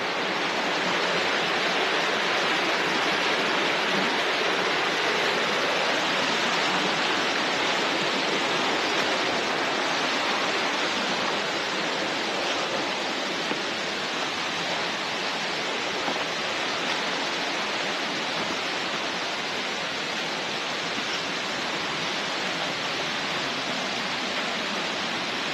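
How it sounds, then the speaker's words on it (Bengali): Water pouring over a drop on the Chumang River in the Dooars, a dense, unbroken roar of falling water heard up close and loud throughout. "চুমুং রিভারের যে ওইখান দিয়ে জলটা পড়ছে"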